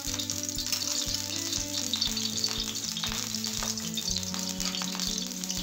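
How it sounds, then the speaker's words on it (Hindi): Mustard oil sizzles in a kadhai with a steady, close crackle and some stirring, running continuously under background music. "हम इसके लिए कढ़ाई रख ली है और अपना ये हम मस्टर्ड ऑयल, 2 चम्मच मस्टर्ड ऑयल डाल दिया है।"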